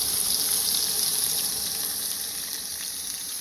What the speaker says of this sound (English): Now we're going to go ahead and throw it right here onto the hot pan. And we're just going to go ahead and sear that joker.